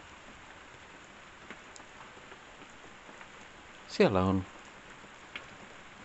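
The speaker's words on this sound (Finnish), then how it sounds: "Siellä sataa." Rain falls steadily on a lake, heard from an open doorway as a soft continuous hiss, with a brief voice speaking partway through.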